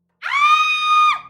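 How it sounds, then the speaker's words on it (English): A woman screams in panic or fear, one loud sustained shriek of about a second that cuts off sharply, heard alone as a podcast sound effect. "It sounds like a woman screaming in panic or fear"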